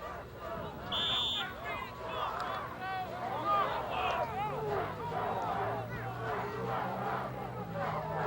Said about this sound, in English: Crowd's starting to get into the game